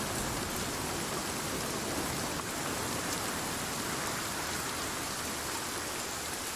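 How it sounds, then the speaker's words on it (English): Steady, dense rain in the survival video game Sons of the Forest, a close, even hiss of heavy rainfall continuing unbroken with no voices over it. "We can't hear you over the rain."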